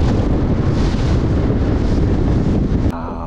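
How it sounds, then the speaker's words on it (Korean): A Starcraft 2100 Supercab fishing boat running on a 225 hp Mercury outboard, loud engine drone with heavy wind buffeting and water rush, cutting out abruptly near the end. "지금 225마력 머큐리 엔진 달고 있습니다"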